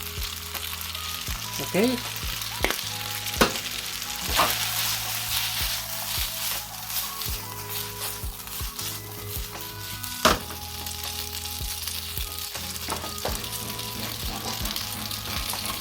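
Noodles fry with sesame oil in a hot pan, giving a constant crackling sizzle broken by occasional stirring clatters and scrapes; someone speaks once briefly.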